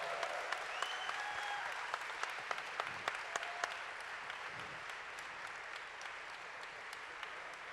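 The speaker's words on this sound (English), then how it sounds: "BB8, ladies and gentlemen, give him another round of applause." Steady applause from a convention panel audience for the BB8 droid at Star Wars Celebration Europe 2016, broad and continuous with scattered louder claps, holding level before slowly easing off.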